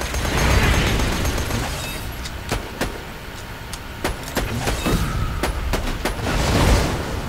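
Explosion in a shooter video game, heard as a dense, loud rumble with a string of sharp bursts and pops repeating through the middle of the clip; no voice is heard.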